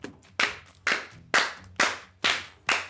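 Six sharp hand claps at a steady, unhurried pace, each ringing briefly before the next, close and clear with no talking.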